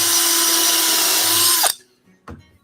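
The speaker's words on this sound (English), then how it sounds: "It makes it a lot easier for pre-drilling." A power drill whines steadily while pre-drilling a hole for a trim screw in wood, then cuts off abruptly, followed by a brief clunk.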